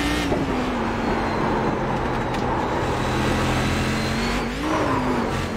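A race car engine in the iRacing video game drones steadily at high revs, close and loud, with a brief rise and dip in pitch near the end as the car goes sideways over a jump.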